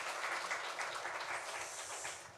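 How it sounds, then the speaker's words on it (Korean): A church congregation applauding during a Sunday worship service, a steady dense wash of clapping from many hands, fairly distant and even throughout, with no voices over it. "우리 하나님께 영광의 박수 올려드리겠습니다."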